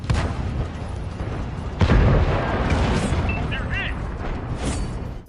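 Tank cannon fire and explosions in the video game World of Tanks, a steady dense rumble of booms with one heavier blast near the middle, mixed with game sound effects.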